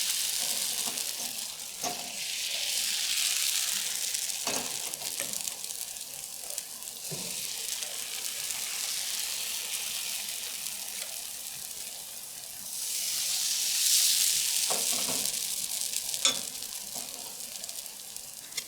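Bánh xèo batter sizzles and fries in an oiled pan over medium heat, a close, continuous crackling hiss that swells in intensity partway through, with occasional stirring or scraping clicks and no voices.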